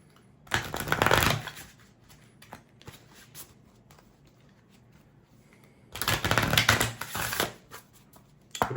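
Oracle cards are shuffled for a card reading in two brisk bursts of riffling and flapping, close up, separated by a quiet pause with a few light taps.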